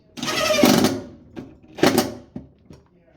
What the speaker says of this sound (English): I'm going to use the same bit with a Dewalt DCF 887.